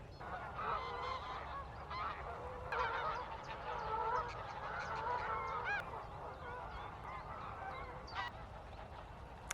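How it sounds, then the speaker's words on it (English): A flock of a couple hundred geese honks continuously at a distance across misty water, a dense overlapping chorus of calls with no voices. "There's a lot of geese there. There must be like a couple of hundred."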